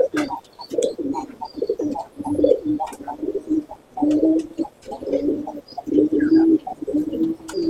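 Girebaz pigeons coo in a cage, repeating low, rolling coos in close, uneven bursts with brief pauses, over faint chirps and rustling.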